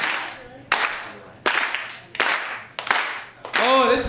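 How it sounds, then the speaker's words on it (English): Slow, deliberate claps from a stand-up comedy audience, about six sharp group claps spaced roughly a second apart and growing slightly quicker, each with a short ringing tail, with voices and laughter near the end. "We're going to start a slow clap."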